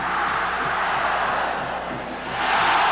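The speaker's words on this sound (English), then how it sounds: "Bronco cheer rising up from sold-out Mile High Stadium" A sold-out crowd of Denver Broncos fans roars at Mile High Stadium during a 1986 Raiders game, a dense, steady wall of cheering that swells toward the end.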